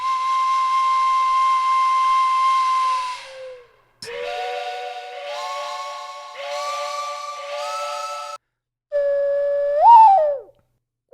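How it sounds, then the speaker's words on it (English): A flute plays a long held note, then short rhythmic phrases, pausing between them, ending with a sliding, breathy rise; clear and close. "I've got a couple flutes that I figure why not record."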